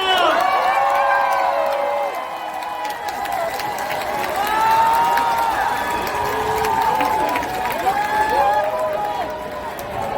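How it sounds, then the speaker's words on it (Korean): Crowd at an outdoor presidential campaign rally in Seomyeon, Busan, cheering and clapping as the candidate is introduced, with amplified voices and music over sustained crowd noise throughout. "이재명 후보님의 연설을 박수로 청하겠습니다."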